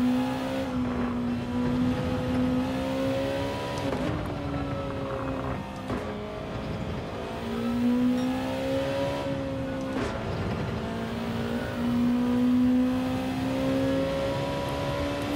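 Race cars circle Suzuka in Gran Turismo 7, a loud close engine drone rising and falling through gear shifts for the whole stretch, with other cars faintly nearby.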